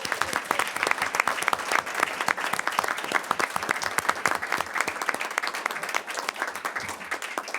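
Audience applause at a school board of education meeting, honoring a girls' tennis head coach: steady, moderately loud clapping from a mid-sized crowd with sharp individual claps standing out, sustained throughout.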